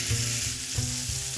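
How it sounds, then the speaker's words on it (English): Pork chops sear in a hot pan with a loud, continuous close sizzle and crackle, and a faint humming tone runs underneath. No voices. "I'm gonna let this brown on the other side and then rest the pork chops."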